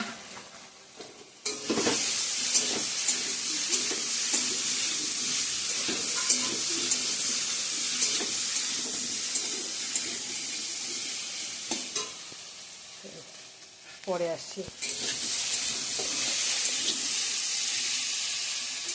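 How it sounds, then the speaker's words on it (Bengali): Soybean chunks fry in a pan with a loud, steady sizzle and rhythmic scraping of stirring; partway through there is a brief lull with clatter and a few quick knocks, then the sizzle resumes, and a short spoken phrase comes in once. "সয়াবিনগুলো দিয়ে দিলাম ভাজা করা"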